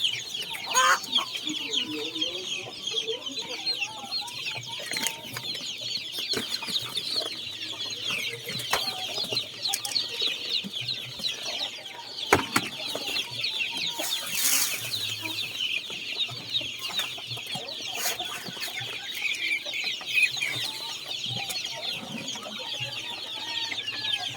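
Chicks and grown chickens in a backyard flock cluck and peep while eating feed, with a steady chorus of chirps and scattered louder clucks throughout, close by, and a voice briefly in the background.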